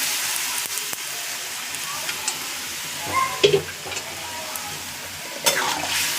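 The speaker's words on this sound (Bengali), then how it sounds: "দেখো বন্ধুরা, কুকার ধরেই ঢেলে দিচ্ছি এখন আমি।" Boiled potatoes and peas tipped straight from a pressure cooker into sizzling fried masala in a pan, giving a steady frying hiss with a few brief splashing clatters, no voices heard.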